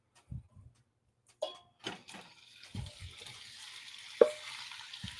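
Stroganoff ingredients drop into a hot pan in a few separate soft thumps and splashes, then a low sizzle builds and holds, with one sharper clack near the end.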